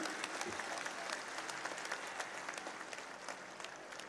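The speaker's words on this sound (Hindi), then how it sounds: "आप सब तालियां बजाकर बताइए सहमत हैं" A crowd at a political rally in Kolayat applauds in agreement, a thick, continuous patter of many hands that sounds somewhat distant and holds steady throughout with no voice over it.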